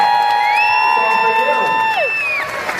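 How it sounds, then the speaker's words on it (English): Crowd cheering for a young girl at a Walt Disney World Hollywood Studios show, loud sustained whoops and high drawn-out shouts with general crowd noise beneath. "How about a nice round of applause for this young lady?"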